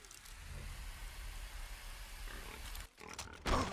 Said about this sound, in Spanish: Oh, un cerdo.